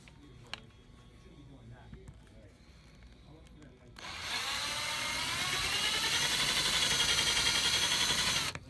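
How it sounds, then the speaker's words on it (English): A power drill bores into a model railway layout platform, starting abruptly after a quiet stretch and holding a steady, loud, high whine for several seconds, with faint room noise before it. "we're going to drill a hole down here into the platform"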